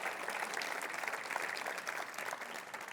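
An audience at a live bilingual concert claps in a dense, sustained burst of applause, with no single voice standing out.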